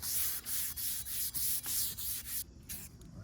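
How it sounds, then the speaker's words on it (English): A Scotch-Brite pad scrubs a metal sway bar end link from a 1999 Ford F-250, making quiet, rhythmic back-and-forth rubbing strokes about three per second that taper off near the end. "Next we'll hit it with some Scotch-Brite and get it ready for some paint."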